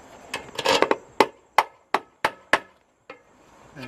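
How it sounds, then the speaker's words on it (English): A hammer drives a nail into wood with a rapid cluster of taps followed by about five sharp, evenly spaced strikes, loud and close. "First I'm nailing it"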